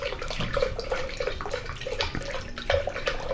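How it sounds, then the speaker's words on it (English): Mountain Valley spring water pouring into an ordinary kitchen blender, a steady close splashing and trickling stream that runs continuously for a few seconds with no talk. "we'll put some Mountain Valley spring water in the blender."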